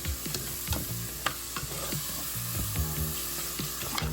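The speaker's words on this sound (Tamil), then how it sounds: "நல்லா கட்டியான தயிர் கர்ட் ஆட் பண்ணி நல்லா நீங்கள் மிக்ஸ் பண்ணி நல்லா வதக்கணும்" Thick curd is stirred into mutton masala frying in a pan for Chennai-style mutton biryani, with close, rhythmic scraping strokes over a steady sizzle.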